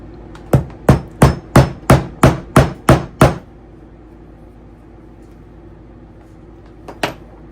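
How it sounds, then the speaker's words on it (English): A rubber hammer strikes a double cap rivet on a leather strap of a quilted tote bag, eight quick, evenly spaced sharp taps close up, then quiet and one last tap. "grab our rubber hammer,"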